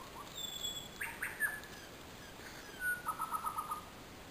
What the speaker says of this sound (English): Hear them birdies?